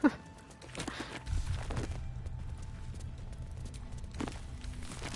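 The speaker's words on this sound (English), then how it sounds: "I love how the footstep sounds change when you walk over the ashes." Footsteps crunching over ashes in the video game Baldur's Gate 3, several soft, muffled steps at an irregular walking pace, quiet and close, with no talking over them.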